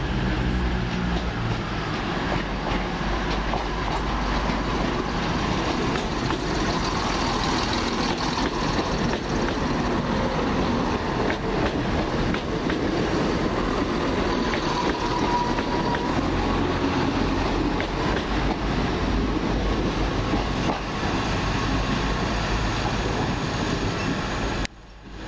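Two coupled London Midland Class 175 diesel units depart the station at Wolverhampton, a loud, continuous engine drone with rumbling wheels and rail clatter that fades away at the very end.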